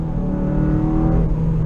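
A 2014 Honda Civic Si's naturally aspirated engine holds a loud, steady high-revving drone with a strong harmonic hum, close and continuous.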